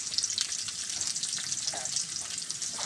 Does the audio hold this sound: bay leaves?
yes